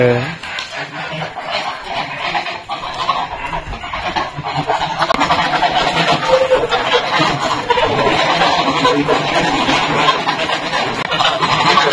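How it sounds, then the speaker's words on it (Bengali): Hens and roosters are let out in a village yard, a loud, dense clamour of clucking and squawking fowl that builds and continues, with voices talking over it. "মোরগ মুরগি গুলো ছাড়বে"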